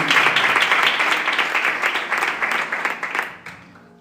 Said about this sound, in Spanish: ¿Le puedes dar un aplauso a esta palabra?